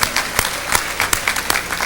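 Applause from a lecture audience in Macon for Minister Louis Farrakhan, with many hands clapping and several sharp, louder claps standing out at irregular moments over the brief burst.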